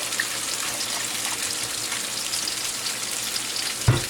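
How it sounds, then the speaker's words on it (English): Water pours steadily into a pot holding thawed spinach, a continuous rushing splash with a small knock of the pot near the end. "then I'll put some water in the pot"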